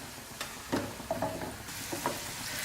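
Puri shells for panipuri deep-frying in hot oil until light golden, giving a steady soft sizzle with a few louder bubbling bursts close by and no talking.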